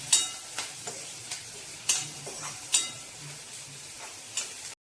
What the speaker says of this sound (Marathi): आता कांदा आपला बऱ्यापैकी चांगला परतून झालेला आहे.